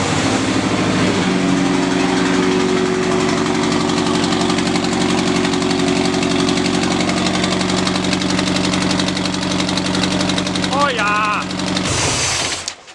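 A K-swapped VW Beetle engine runs rough on only three cylinders, giving a loud, steady, uneven knocking drone close by for the whole stretch before cutting off near the end, with a brief voice over it.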